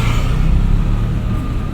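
A car engine pulls steadily in second gear during a driving lesson, a continuous loud close drone with a low rumble and no voices over it.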